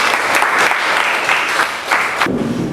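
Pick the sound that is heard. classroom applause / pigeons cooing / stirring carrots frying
classroom applause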